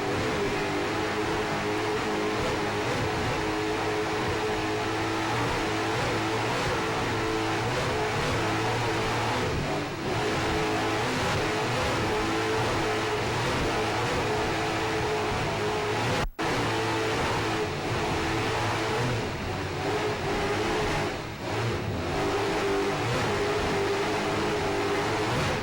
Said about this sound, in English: Hear those Mercury Supercat engines screaming